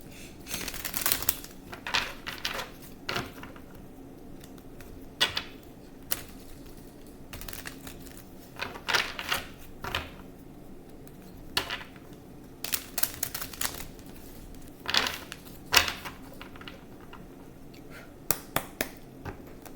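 Crisp riffling and snapping bursts of tarot cards being shuffled, repeated in irregular flurries, close and fairly quiet, with no talking.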